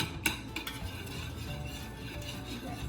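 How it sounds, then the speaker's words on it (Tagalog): Eggs being mixed in a bowl for bibingka batter, with a utensil clinking and scraping against the bowl in a steady stirring rhythm, close but fairly quiet, with no talking. "So now we're gonna mix it. Mix it well. Yeah, mix. Mix the eggs."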